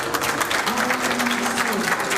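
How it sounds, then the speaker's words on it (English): Clapping from a small crowd fills the space, steady and close, with a faint voice calling out briefly underneath. "Big applause for Joe."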